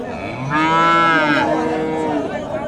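A Friesian bull at a Bogura cattle market lets out a single long, loud moo that rises and holds, then fades. Market murmur stays low underneath.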